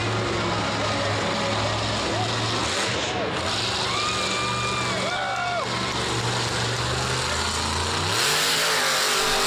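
Captain America monster truck at a Monster Jam arena event in Jacksonville, its engine droning steadily with a few rising revs, loud and continuous beneath an announcer's commentary.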